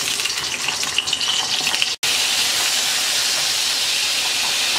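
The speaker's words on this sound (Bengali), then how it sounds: "তেলটা গরম হয়ে গেছে, পটলগুলো দিয়ে দিচ্ছি।" Pieces of pointed gourd hit hot oil in a pan and fry with a loud, steady hiss that continues throughout after a brief dropout near the middle.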